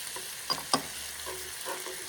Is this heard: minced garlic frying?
yes